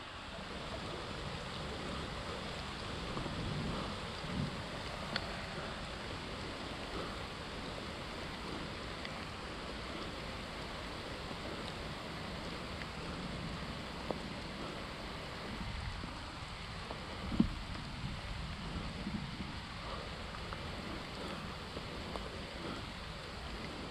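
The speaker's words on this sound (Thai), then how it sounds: "ว้าวฝนมาแล้ว" Steady broadband wash of rain setting in near a waterfall on the Khao Nang Yong trail, a continuous, even hiss of water with a few faint thumps, no talk over it.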